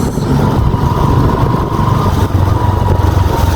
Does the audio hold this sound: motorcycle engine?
yes